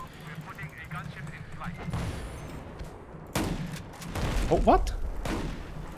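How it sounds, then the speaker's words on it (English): Sniper shotgun blasts in the video game Battlefield 4, several booming shots over game noise with a person talking over them. "For some reason the shots didn't do anything."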